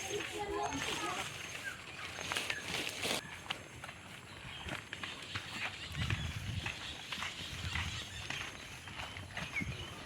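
A horse's hooves clip-clop at a steady walking pace while hauling coconuts, with background noise and occasional voices mixed in.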